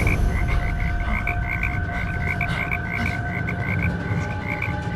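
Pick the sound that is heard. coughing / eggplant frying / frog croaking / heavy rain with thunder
frog croaking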